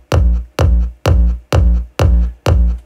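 Six punchy kick drum hits with Cubase tube distortion turned up land at an even, steady pulse, each a loud, close boom with a gritty edge that decays quickly before the next.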